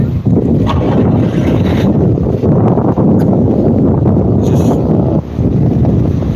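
Strong wind buffets the microphone on a dark night, a loud, constant roaring rumble with brief dips and gusts throughout.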